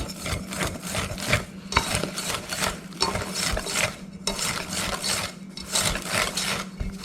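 Japanese cheesecake batter is mixed in a bowl with quick, rhythmic scraping and swishing strokes. The strokes come in short bursts with brief gaps, close and moderately loud, and no voices are heard.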